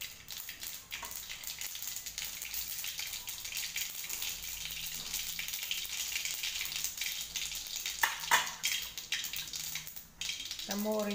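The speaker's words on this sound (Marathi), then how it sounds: "मोहरी छान तडतडली" Mustard seeds crackle and sputter in hot oil in a kadhai, a continuous, fairly quiet frying hiss dotted with tiny pops, swelling briefly toward the end.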